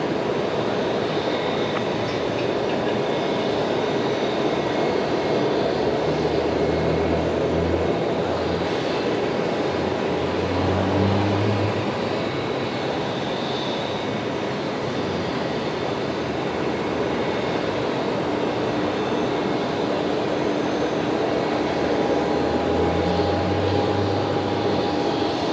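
A Jetstar jet taking off from runway 19 right at Brisbane Airport, a broad, continuous roar that holds steady for about twenty-five seconds at a moderate distance.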